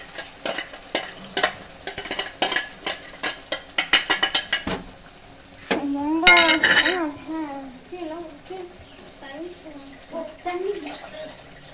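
Tomato puree sauce, blended in a mixer, poured into a pan for pasta, giving a wet sloshing and sizzling splatter after a run of quick clattering knocks, with a voice talking over part of it.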